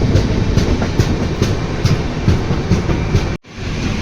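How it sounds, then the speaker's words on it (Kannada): A train passes near Dudhsagar, a loud close rumble with regular clickety-clack wheel beats, cutting off abruptly near the end. "ಟ್ರೈನ್ ಪಾಸ್ ಆಯಿತು"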